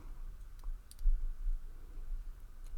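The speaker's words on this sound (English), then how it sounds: "Another good click there." Small, faint clicks from picking a red safety lockout padlock, a handful of sharp ticks scattered irregularly over a low background hum, close up with no voices.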